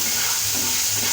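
Spice paste for a pabda fish bhuna fries in a pan, giving a continuous, even sizzle and hiss up close.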